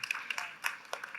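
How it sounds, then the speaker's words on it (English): Brief, light scattered clapping from an audience at a women-in-entertainment industry panel, a few sharp claps in quick succession, fairly faint and thin rather than a full ovation. "please, a round of applause"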